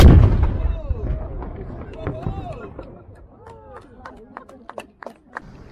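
One loud cannon shot at the Halifax Citadel, a close booming blast right after a shouted fire command, fading into crowd chatter and exclamations.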